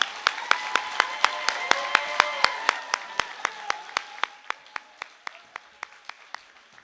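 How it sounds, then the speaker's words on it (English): At an adult learning center graduation ceremony, the audience breaks into steady rhythmic clapping, crisp regular claps that slowly soften over several seconds, with faint tonal voices or cheering running underneath. "let's give them all a round of applause."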